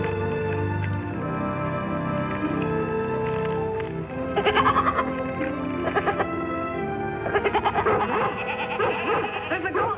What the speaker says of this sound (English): There's a goat in trouble.